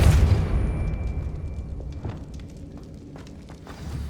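A Confringo explosive spell blast in the Hogwarts Legacy video game: a deep, loud boom bursts at the start, then fades into a long low rumble with scattered light crackles and debris clatter.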